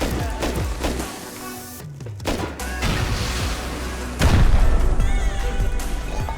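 Gunfire and heavy booming blasts in the game Rust, with a loud thudding explosion blowing open a metal door near the end, followed by rumbling debris.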